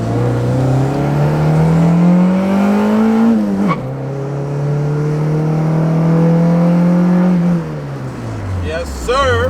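A car engine revving and holding high, its pitch dropping sharply as the clutch engages, then climbing again before falling off; loud and close, with a voice talking over it near the end.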